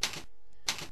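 Typing on a computer keyboard, two short bursts of key clatter separated by a brief pause, close and fairly quiet.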